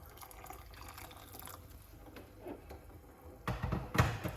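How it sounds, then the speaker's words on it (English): Hot water is poured in a brief, splashing stream near the end, after a quiet stretch of faint room noise. "And put a little bit more hot water."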